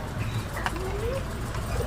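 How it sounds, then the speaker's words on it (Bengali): Pet budgerigars call during a lively morning, with a single soft rising whistle and faint chirps over a steady low background hum. "এই পাখিগুলোর নাম বদ্রি পাখি।"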